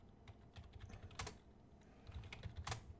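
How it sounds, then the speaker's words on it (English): Keystrokes patter on a computer keyboard, faint and steady, with occasional louder key hits over a low background hum; no one speaks. "I have to type the whole thing."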